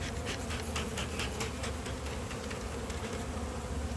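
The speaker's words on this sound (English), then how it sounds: "So we're just going to go and dispatch these bees right now." Dense, steady buzzing of many honey bees at an open hive during an inspection, loud and close, a continuous drone with no voices.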